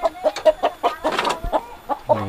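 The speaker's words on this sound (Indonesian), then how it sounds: "ini ada kandang ayam. Wah, banyak ayamnya pemirsa." Chickens clucking inside a chicken coop at a remote hillside house, a string of close, repeated short clucks in a quick uneven rhythm, loud and clear with no talking.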